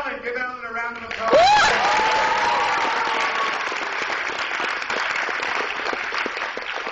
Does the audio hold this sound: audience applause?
yes